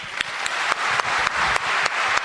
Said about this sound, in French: J'espère que c'est Jésus que vous applaudissez.